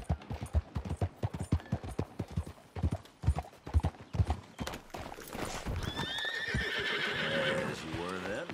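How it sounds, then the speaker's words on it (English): A horse in Red Dead Redemption 2 gallops with rapid rhythmic hoofbeats, then slows and lets out a loud, drawn-out whinny, close and clear. "Good horse."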